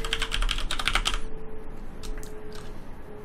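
Quick bursts of keystrokes on a computer keyboard enter a username, a dense clicking run for about a second and a half, then a few sparse taps over a low electrical hum, close and clear with no talking.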